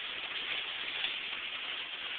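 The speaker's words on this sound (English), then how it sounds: "Yeah, that's all rain." Rain patters steadily on the roof and body of a Ford Ranger while sitting inside, a constant soft hiss of drops heard from within the cab, fairly faint and with no talking.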